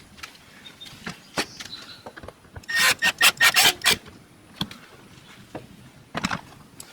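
A plastic trim piece on a Ram 1500 pickup's rear door panel scrapes and rubs as it is pushed into place, giving a close, loud burst of rasping strokes amid scattered clicks and handling noises.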